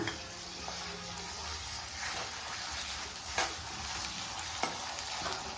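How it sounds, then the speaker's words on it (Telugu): Onions frying in a pan with ginger-garlic paste just added, a steady close sizzle with a few soft scrapes of stirring, for a South Indian brinjal potato curry. "ఉల్లిగడ్డలు ఫ్రై అయినాయి, అందులో అల్లం తెల్లబాయి పేస్ట్ వేస్తున్నా"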